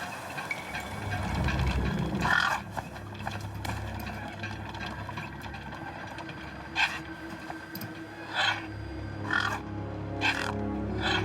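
Scavenger birds in the video game Beyond a Steel Sky cry out in a few short, scattered calls over a low, steady wasteland ambience.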